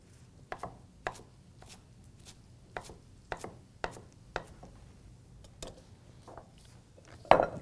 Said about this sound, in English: Chop it up.